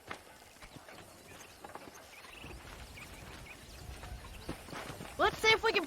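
Horse hooves clip-clop at a walking pace in the Western video game Red Dead Redemption, soft and steady under game dialogue, with a horse's whinny rising near the end.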